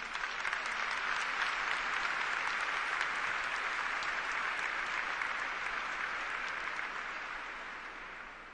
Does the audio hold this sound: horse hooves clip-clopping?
no